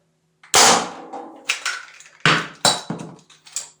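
A Sillyshell handcannon toy blaster fires shells with sharp, loud snaps and clacks in quick, uneven succession, each crack followed by a short plastic rattle, close up and with no talking.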